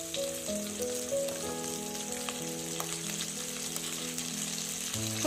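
Cumin, fenugreek, garlic and onion sauté in oil for a tamarind curry, giving a low, steady sizzle under a sustained musical tone, with no one talking.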